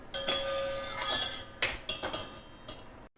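Roasted almonds are scooped out of a metal pan, giving a string of sharp metallic scrapes and clinks from a spoon against the pan, irregular and close, with short quiet gaps between strikes.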